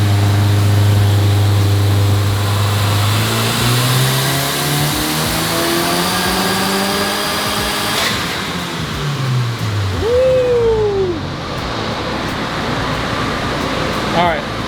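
2024 Subaru WRX VB TR with a custom tune on a dyno run, a steady loud engine drone climbing in pitch and then winding down, with fan or airflow noise throughout.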